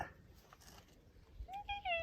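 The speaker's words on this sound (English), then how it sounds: "Everyone keeps on saying, where's Beefy the cat?" A pet cat indoors lets out a few short, rising meows near the end, close and moderately loud, after a quiet stretch of faint room noise.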